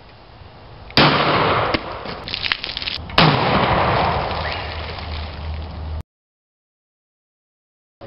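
An oxygen and propane potato gun fires with a loud sharp blast, followed by scattered rattling and a second strong burst, then a long noisy rush of debris that cuts off abruptly into silence.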